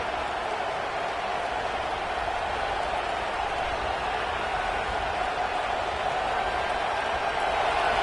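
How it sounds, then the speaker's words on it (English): A football stadium crowd at a Mizzou vs Oklahoma game makes a steady, dense roar that stays loud and unbroken throughout, with no distinct voices standing out. "This crowd bringing the energy and noise early."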